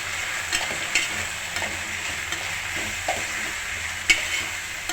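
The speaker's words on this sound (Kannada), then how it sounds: "ಇವಾಗ ಸ್ವಲ್ಪ ತರಕಾರಿ, ಅದು ಸ್ವಲ್ಪ ಎಣ್ಣೆ ಹುರಿಬೇಕು" Vegetables such as peas, beans and carrots fry in oil with a steady close sizzle, broken by occasional stirring clinks and scrapes; no one speaks.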